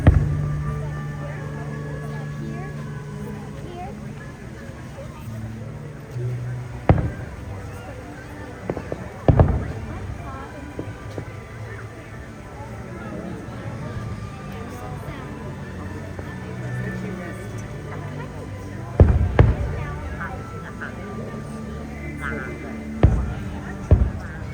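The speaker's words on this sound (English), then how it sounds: "Happily Ever After is now going on. You can see the fireworks right here." The Happily Ever After fireworks show at a Disney park, heard as scattered booming bursts over a crowd's constant murmur, with several sharper, louder bangs spaced through the display.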